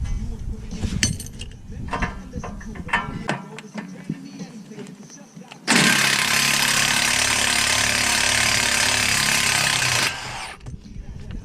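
Clanks and rattling tool noises, then a loud buzzing power-tool burst lasting several seconds removing a tie rod nut on a Dodge 2500, before cutting off, with some speech-like sounds around it.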